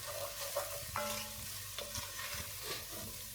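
Spices being stirred into a pot of vegetable mulligatawny soup, a soft continuous simmering sizzle with a few scraping and tapping stirs of a spoon, close and fairly quiet, no talk.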